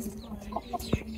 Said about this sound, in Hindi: देखो माशाल्लाह चूजे भी इधर घूम रहे हैं